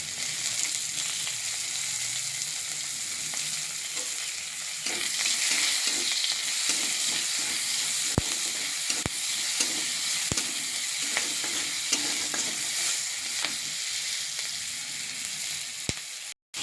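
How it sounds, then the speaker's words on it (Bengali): Chopped onions fry in spiced oil, a steady close sizzle running throughout with occasional scraping stirs and a few sharp clicks of a spoon against the pan. "পেঁয়াজটা আমার লাল লাল করে ভাজা হয়ে গেছে"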